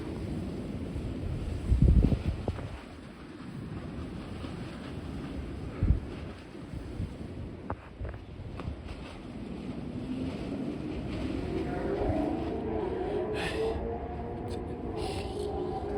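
Strong wind buffets the microphone, producing continuous low rumbling with heavy gusts and thumps, especially early on, then a steadier roaring blow that builds toward the end.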